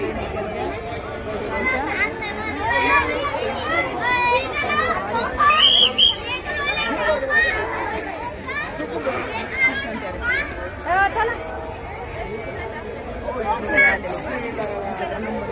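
At a busy village fair (jatra) at the Khandeshwari yatra, a crowd's constant, dense chatter fills the air, with nearby voices talking over the babble.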